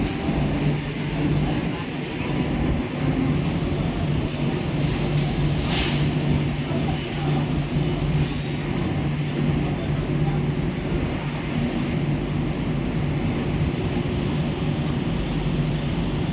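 A steady, loud rumble of a Mumbai local train at a railway platform, with constant station noise, announcements and distant voices underneath.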